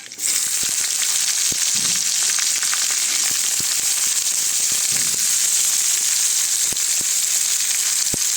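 Onions and green chillies hitting hot oil with ridge gourd, giving a loud, steady sizzle throughout with occasional sharp pops and crackles.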